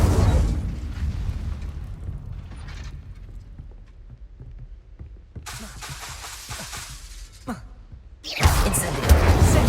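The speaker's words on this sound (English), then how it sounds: "Incendio! Setting things ablaze is certainly cathartic, isn't it?" Fiery Incendio spell blasts in Hogwarts Legacy, several whooshing bursts with creaking, mechanical textures, the last one a loud, dense roar at the end.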